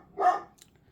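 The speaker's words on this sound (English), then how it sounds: "it's just continually barking" Single short dog bark indoors, moderately close, followed by quiet.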